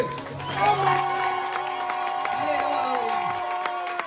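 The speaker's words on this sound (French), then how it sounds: "J'ai dit qu'on acclame à Dieu." A church congregation cheers and acclaims God during a sermon, a sustained roomful of voices shouting and whooping with scattered clapping, steady and fairly loud throughout, with singing-like tones mixed in.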